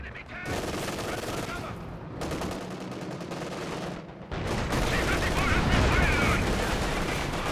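Tank and infantry gunfire in the World War II strategy game Company of Heroes 2, a continuous barrage of overlapping rapid shots and heavier booms, dense and loud throughout with faint talk beneath.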